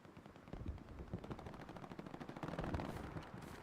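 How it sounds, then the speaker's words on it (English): Rapid machine-gun bursts rattle through a video game firefight, with dense, continuous gunfire that grows heavier midway and stays fairly close and loud throughout. "And I got shut down with a machine gun in this."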